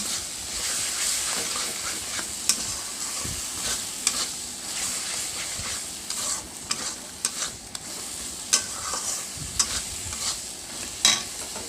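Chana paneer masala frying and being stirred with salt in a pan, a continuous soft sizzle broken by sharp scraping and tapping strokes of the spoon at irregular intervals.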